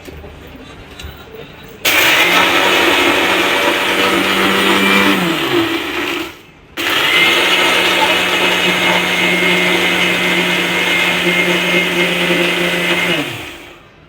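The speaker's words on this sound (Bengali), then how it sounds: "আমি এই সবগুলো বিস্কিট ব্লেন্ডার করব" An electric blender grinds cheap biscuits into crumbs in two loud, steady whirring runs. The motor spins up, drones evenly, and winds down, with a short pause between the runs.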